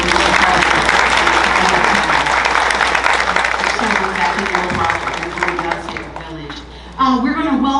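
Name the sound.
audience applause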